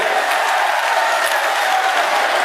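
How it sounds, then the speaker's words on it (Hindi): A crowd applauds loudly at a political rally in Narnaund welcoming Chief Minister Yogi Adityanath, a steady, dense wash of clapping throughout with no clear voices. "एक बार जोरदार ताली बजा करके आदरणीय मुख्यमंत्री जी का स्वागत करें।"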